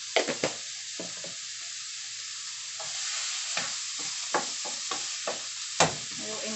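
Ground beef picadillo frying in a pan is stirred, the steady sizzle broken by several scraping strokes of the spoon, close up, with no talk.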